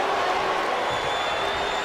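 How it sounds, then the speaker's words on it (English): Arena crowd cheering in a WWE wrestling video game, a steady, full roar of massed voices that holds at an even level for the whole stretch without letting up. "this crowd is really swelling"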